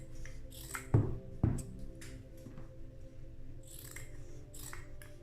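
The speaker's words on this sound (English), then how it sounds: "And then just cut them all like that." Scissors snip through tape-edged resined tile coaster material in two sharp, close cuts near the start, followed by quieter handling and faint rustling.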